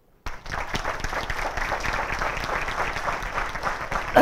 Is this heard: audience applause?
yes